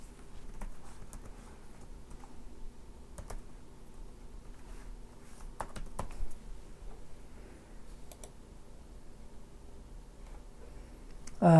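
Keys tapped on a computer keyboard in scattered, irregular bursts of soft clicks, close but quiet, with pauses between short runs and no talking.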